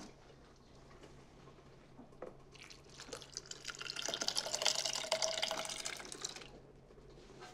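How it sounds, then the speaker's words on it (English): Cooked pinto beans and their cooking liquid are poured into a blender, a close, wet sloshing pour that swells through the middle of the clip and then tapers off, with no talking. "add the pinto beans right into the blender."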